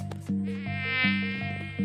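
Mosquito buzzing sound effect from the video game Plague Inc, a steady close whine with pulsing harmonic tones underneath that swell in short repeating segments, loud and alone without any talk.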